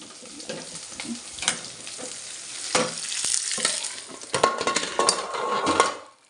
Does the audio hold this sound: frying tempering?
yes